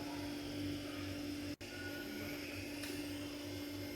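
Electric kitchen mixer grinding soaked dried chillies with ginger and garlic into a paste, a steady close motor whine with one abrupt momentary cutout partway through.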